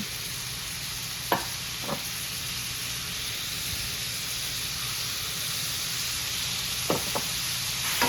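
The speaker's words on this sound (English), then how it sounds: "we want the heat nice and high because we're just going to sear it" Beef pieces seasoned with salt and pepper sear in a pan over high heat, giving a steady, even sizzle with a few faint knocks and scrapes from the utensil.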